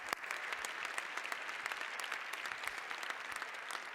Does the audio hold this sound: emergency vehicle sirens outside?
no